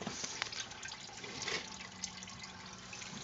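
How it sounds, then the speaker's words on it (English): Coolant draining out of the radiator of a 1972 Chevy truck, a steady, faint splashing trickle of liquid pouring continuously without a break. "And draining the radiator out."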